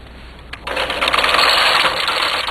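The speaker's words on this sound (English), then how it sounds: "And I'm going to knit 1 row plain from right to left." A knitting machine carriage swept across the needle bed for one plain row, a quick rising whir and rattle that starts abruptly after a soft click and runs steadily to the end, fairly loud and alone.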